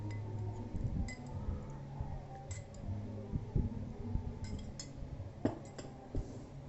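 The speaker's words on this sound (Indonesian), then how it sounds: "Aduk kembali hingga semua menjadi agak cair." Mini roll batter thinned with water is stirred in a bowl, with soft scraping and intermittent light clinks of a utensil against the bowl, quiet and close with no talking.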